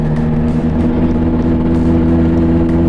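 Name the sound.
Fiat Marea Turbo five-cylinder engine revving with straight exhaust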